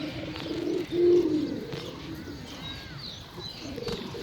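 Soft coos from Indian Zaakh pigeons rise and fall several times, with faint chirps and a flutter of wings in the background; close and moderately loud.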